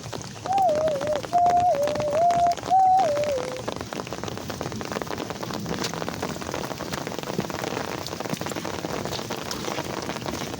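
Steady rain patters loudly and continuously on hard surfaces outdoors. A few brief whistling tones sound early on.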